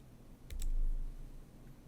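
A single computer mouse click on a download button, two quick faint clicks in a row against quiet room hiss.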